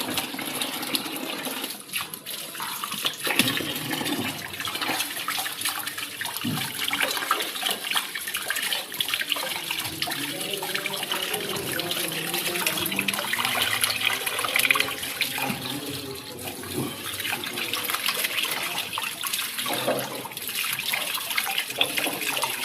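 Elephant foot yam being washed clean of soil under running water, a continuous loud rush and splash of water from a tap playing steadily throughout, with no speech.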